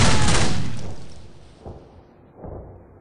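A single loud rifle volley from a ceremonial firing party at a 21-gun salute, a sharp blast that rolls into a long fading echo, followed by fainter metallic handling sounds.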